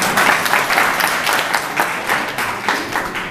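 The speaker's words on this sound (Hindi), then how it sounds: "मैं चाहूँगा फिर से एक बार उनके लिए तालियां।" An audience applauds at an awards gathering in Malegaon honouring about a hundred veteran wrestlers, producing a loud, steady wash of many hands clapping together, continuous and close for the whole stretch with no talk above it.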